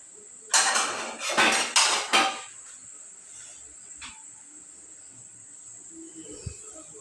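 A small lid is set onto a pot while vapa pitha steams, giving a quick run of four or five close metallic clatters and clinks, followed by quiet with a faint steady high whine.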